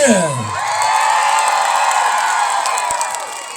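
A concert crowd whoops and cheers loudly and continuously at an Independence Day show in Bar, 2016, a dense wall of shouts and yells filling the whole stretch.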